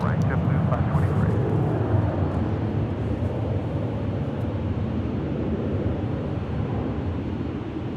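JetBlue airliner landing on runway 24 right at LAX, its engines making a steady broad roar that slowly fades, with no talk heard.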